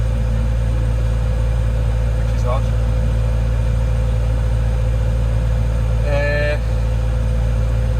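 Excavator diesel engine idling steadily with a deep continuous hum throughout, close and loud, while someone speaks briefly over it.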